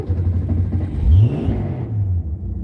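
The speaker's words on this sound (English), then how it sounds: "But if I give it full throttle here" A car engine with a flooded carburetor revving at full throttle, a close rumbling roar that rises in pitch as it catches and then holds at a rough, uneven idle.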